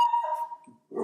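A dog whimpers in a high, thin, wavering tone that trails off, followed by a brief lower grumbling whine, close and fairly loud with no talk.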